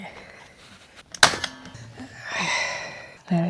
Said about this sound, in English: Electric staple gun.